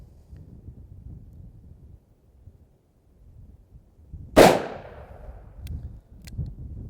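A single sharp, loud gunshot from a Smith & Wesson 686 .357 Magnum revolver fired single action at an outdoor range, with a decaying echo, wind noise before and after, and faint clicks following.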